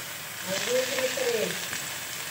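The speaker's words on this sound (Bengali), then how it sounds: "সয়াবিনটা ভাজি করে নিম" Soybean chunks fry in a pan with a steady, soft sizzle, and faint tonal scraping or squeaks rise briefly around the middle.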